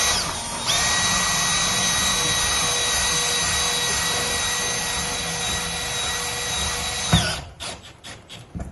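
A power drill drives a self-tapping screw into a greenhouse side vent screen, a steady whine running for about six seconds before stopping abruptly, followed by faint handling clatter.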